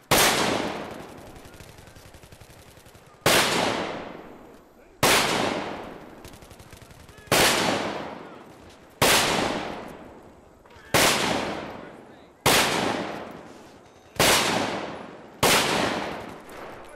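Steyr AUG A3 bullpup rifle firing in close quarters, eight loud sharp reports at roughly two-second intervals, each with a long decaying ring-out.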